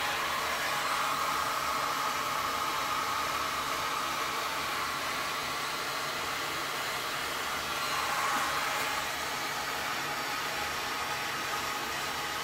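Heat gun blowing steadily over a StoneCoat Art Coat resin pour on a 12 by 24 inch canvas, a continuous broadband airy hiss that holds fairly level throughout with no talking.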